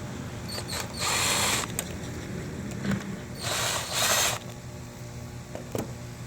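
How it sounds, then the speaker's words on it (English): A ratchet with an 8 mm socket loosening bolts on a 2013 Chevy Malibu during alternator replacement, two bursts of rapid clicking ratcheting close up, with a few light metallic taps between. "we'll just go ahead and take our 8 millimeter and loosen these off"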